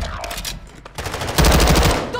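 Rapid automatic gunfire from the video game Call of Duty: Modern Warfare II, loud dense bursts of shots that swell heavier in the second half, with no talk over them.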